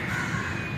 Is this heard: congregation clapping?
no